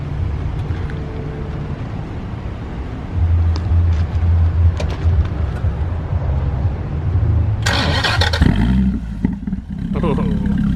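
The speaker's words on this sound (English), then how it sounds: "It's a little bit louder than I was expecting, so I think the exhaust is modified in some way." A car with a modified exhaust fires up loudly at close range, its low rumble holding steady and settling into a deep, gurgling idle, with a few sharp bursts near the end.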